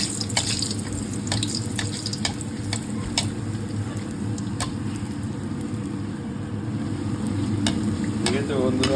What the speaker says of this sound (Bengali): ভটুরাটা কেমন ফুটছে দেখাচ্ছি।